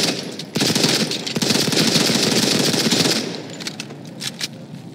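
Rapid automatic gunfire in a shooting video game crackles in a steady, close burst for nearly three seconds, followed by a few isolated sharp shots.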